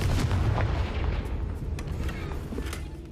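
Firing the Confringo spell in a Harry Potter video game sets off a deep, rumbling explosive blast that continues as dense booming for about three seconds, loud and near, and then fades slightly toward the end.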